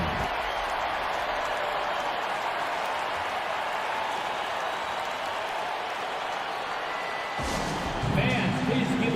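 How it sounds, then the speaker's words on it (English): Arena crowd applause in the basketball video game NBA 2K25, a steady broad roar of clapping and cheering under game audio that shifts near the end as the scene changes. "Fans, please give a big round of applause"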